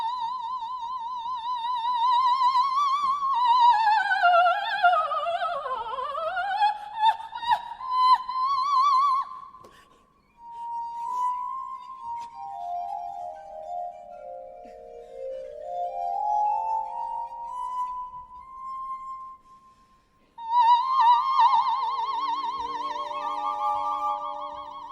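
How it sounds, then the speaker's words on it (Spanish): Operatic soprano voice singing alone, sweeping smoothly up and down in long pure-toned glides across a wide range, with a short pause before a final bright phrase. "Lo que acabamos de escuchar es una voz de soprano."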